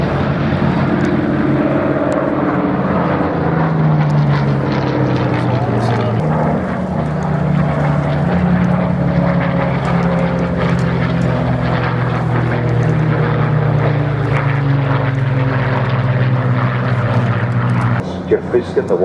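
Propeller warbirds flying at the Duxford Flying Legends air show: a loud, sustained piston-engine drone whose pitch slowly sweeps as the aircraft pass, with an announcer talking over it.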